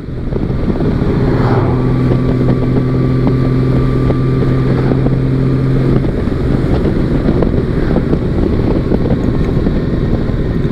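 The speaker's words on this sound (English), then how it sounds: "Six-cylinder motorcycle, man. How do you get any better than that? The engine is super smooth on this bike." Honda Valkyrie six-cylinder motorcycle running smoothly while riding, just after an oil change, a steady loud engine drone with heavy wind rush over the microphone throughout, no voices.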